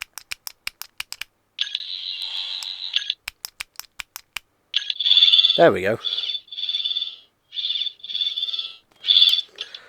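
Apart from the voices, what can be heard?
Doctor Who 14th Doctor sonic screwdriver toy sound effects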